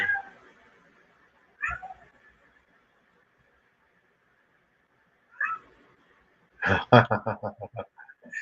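A whiny house cat meows close by indoors in a few separate drawn-out calls with long quiet gaps, ending in a quicker run of short complaining meows.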